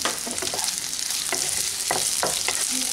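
Capsicum and green chillies stir-fry in a pan for chilli paneer, a steady sizzle broken by repeated scraping strokes of a spatula at an uneven rhythm, close and fairly loud, with no talking.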